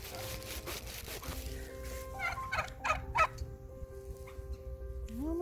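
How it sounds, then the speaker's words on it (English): Turkeys gobble in a yard just after being released, several loud bursts in the middle over steady outdoor background noise, with other faint calls and a short voice near the end. "I just let the turkeys out"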